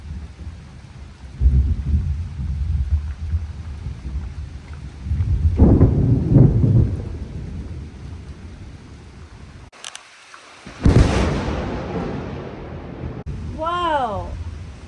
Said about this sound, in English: it is actually thundering and lightning